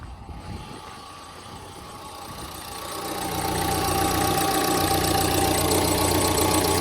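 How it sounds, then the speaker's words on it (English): A car engine idling close by, its rumble rising and swelling unevenly as it hunts, with a faint high squeal from the belt mixed into the steady drone. "little bit of a squeak there on the belt, but it definitely started hunting a little bit"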